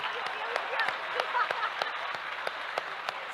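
An audience applauding at a university forum, steady rhythmic clapping over a few seconds with a voice talking over it.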